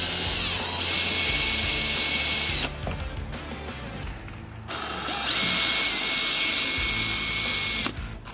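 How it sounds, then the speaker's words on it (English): A power drill bores shallow holes into the side of a wooden trunk box, giving two loud, steady whirring bursts about two to three seconds long, separated by a quieter pause. "With our holes marked, Pat drilled a few shallow holes into the first side of our box."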